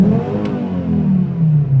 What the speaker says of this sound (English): When it passes 4K on rev.